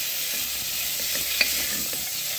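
Chicken pieces frying in a pan for chicken soup, giving an even, continuous hiss of sizzling oil up close, with a single faint stirring click partway through and no talking.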